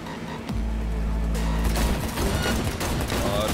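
In Cyberpunk 2077, loud sustained gunfire bursts in quick rapid repetition over a heavy low rumble. It runs almost without pause for several seconds and sounds close and dense.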